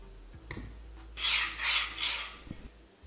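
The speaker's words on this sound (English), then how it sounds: "It's definitely taking the coating off, and I can see the metal pan, the aluminum underneath." Scratch test scraping the nonstick coating off an aluminum frying pan: a few light taps, then three close harsh rasping strokes in quick succession, followed by a couple of small knocks, with no talking.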